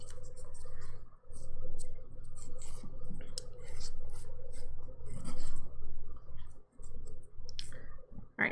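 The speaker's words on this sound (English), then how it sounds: "we are going to finish buffing it smooth" Steady rasping strokes of a nail buffer smoothing dip powder nails during a manicure, close and repetitive with brief pauses and a few small clicks.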